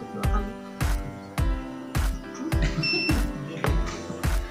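A handheld chlorophyll meter beeps after clamping onto a crop leaf in a field, giving a loud series of short, evenly spaced electronic beeps, about eight in a row.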